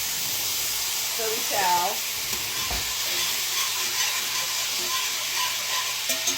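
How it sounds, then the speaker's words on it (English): A pan is deglazed with leftover chicken juice while making creamy Cajun chicken and rice, giving a steady hiss and sizzle throughout, with a short spoken phrase over it. "Basically, it said to use this leftover juice to deglaze the pan."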